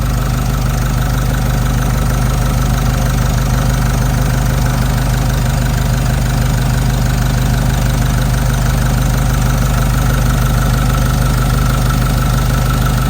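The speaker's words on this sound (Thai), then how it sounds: "เดี๋ยวฟังเสียงเครื่องแล้วก็ ดูตามคลิปกันไปเลยนะครับ" A 2019 Isuzu D-Max 1.9 diesel engine idles in a steady, even rumble with a faint mechanical clatter, running smoothly and close by throughout with no voices.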